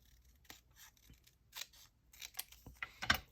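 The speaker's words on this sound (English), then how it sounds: "I'm going to cut this off at the bottom." Scissors snipping scrap paper for a junk journal, a series of short crisp cuts at close range in irregular rhythm, quiet with no talking.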